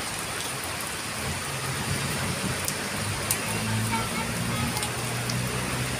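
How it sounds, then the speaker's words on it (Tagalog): Steady, dense rain pours down continuously outside Santo Domingo Church, a heavy broadband hiss with scattered drops striking hard surfaces nearby. "Lakas ng ulan."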